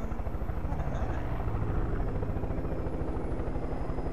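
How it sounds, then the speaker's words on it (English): A helicopter flies in the video game Far Cry 5, its rotor chopping in a loud, steady, continuous pulse that stays close throughout. "Wow, this helicopter's a bit slower than my other one."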